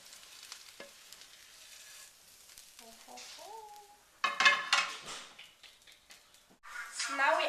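Sizzling of food frying in a pan, with a plate clattering as it is set on and flipped. Quiet hiss at first, then louder bursts of frying and clinks partway through.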